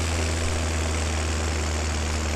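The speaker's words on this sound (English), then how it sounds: "Come on, tractor, you can make it." A tractor engine in the farming video game Farming Simulator 17 drones steadily at a loud, constant low pitch, with no talk over it.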